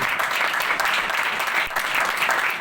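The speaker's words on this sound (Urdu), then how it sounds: "آئے اس استاد کے لیے زوردار تالیاں ہو۔" Church congregation bursting into steady, hearty applause during a Pentecost sermon, a continuous wash of many clapping hands at close range.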